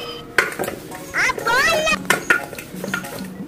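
Dishes being washed, with clinking pots, plates and utensils knocking together in close, irregular clatters while people talk and call out over them.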